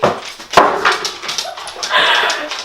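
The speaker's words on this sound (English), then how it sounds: "The Great Dana's sniffing at the door, she wants to come in." A Great Dane at a closed door whimpers and yips in short, close bursts with some panting, while someone talks over it.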